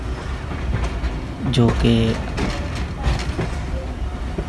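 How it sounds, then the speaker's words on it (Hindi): The Marvi Express rattles across a track switch, with close, loud clickety-clack of wheels over the rail joints and a brief voice speaking over the noise. "ये पटरी चेंज हो रही है"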